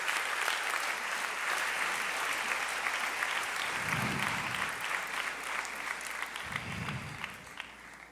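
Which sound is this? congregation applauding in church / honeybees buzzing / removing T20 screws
congregation applauding in church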